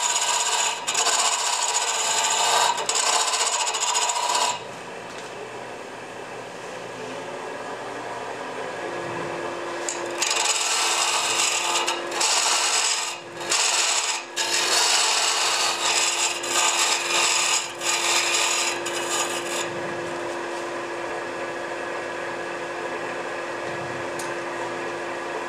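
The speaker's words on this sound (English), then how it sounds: "right now there's no shaping, there's no cutting, it's all scraping." A lathe tool scrapes spinning wood while a candlestick holder is turned, producing loud, harsh rasping bursts that start and stop over a steady motor hum.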